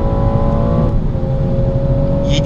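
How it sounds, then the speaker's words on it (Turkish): A BMW M240i xDrive with 340 hp launching under launch control, its engine droning loud and close, revs climbing steadily with a brief shift around the one-second mark, with no talk over it. "Launch control ile kalkalım. Bir hızlanmasına bakalım."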